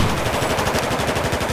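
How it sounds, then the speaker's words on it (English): Sustained machine-gun fire in the video game Battlefield 4, a fast, even rhythm of loud, close shots that runs without a break. "Nice shooting on the drive by."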